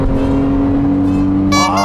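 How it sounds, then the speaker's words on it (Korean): A Porsche naturally aspirated engine revs with a smooth, clear tone, close and loud, holding steady before a brief sharper rise in pitch near the end. "지금 터보 엔진들은 이런 청량한 소리가 안 나요."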